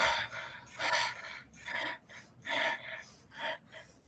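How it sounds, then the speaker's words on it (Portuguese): Rapid short breathing exercise in a group session, a series of quick, forceful breaths in and out in an uneven rhythm, loud and close with no talk. "Vamos lá, gente, respirando assim, curtinho, bora!"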